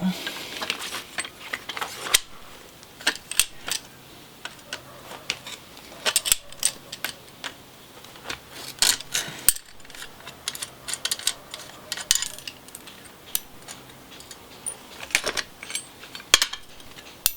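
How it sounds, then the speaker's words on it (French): A bolt being undone with a ratchet on old shear blades in a workshop: scattered clicks, metallic rattles and clinks in irregular bursts, with faint talk and a low hum beneath. "Donc maintenant on va dévisser ça."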